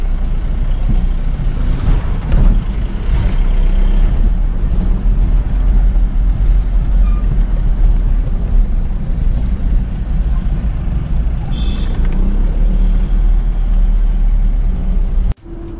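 Road traffic in Pune, heard as a steady loud rumble of cars, trucks and buses passing close by, with no talk in it.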